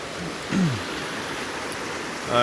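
Flooding creek water flows in a continuous close broadband rush, with brief vocal sounds briefly audible over the steady stream.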